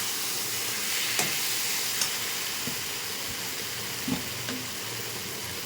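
Fish curry with papaya and potato is stirred in a pan. Under a steady hiss of simmering, a spoon scrapes in a few soft, scattered taps.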